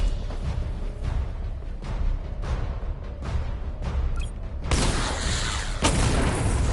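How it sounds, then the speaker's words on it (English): Missile barrage firing in a Batman video game, a series of dull booms and whooshing launches under a constant rumbling backdrop, ending in a louder burst of explosions. "Missile barrage level 1 ready."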